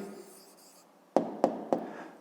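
By hand, a pen scratches softly before three quick, sharp taps on paper as an answer is written down, close and with no voices.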